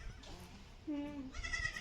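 A goat in a farm shed bleats a few times, the clear wavering calls fairly faint against quiet indoor background.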